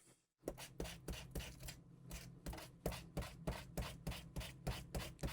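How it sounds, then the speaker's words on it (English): Steady back-and-forth scraping of a Craft Core sanding disc on art journal pieces, a regular rhythm of rough strokes about three per second, close and moderately loud with no talk. "I'm going to sand these using one of these sanding discs"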